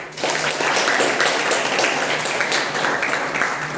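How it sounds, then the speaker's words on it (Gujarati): Students at a school give a steady round of clapping to welcome a visiting guest, dense and even from start to finish. "આપણે એનું સ્વાગત કરશું તાળીઓથી"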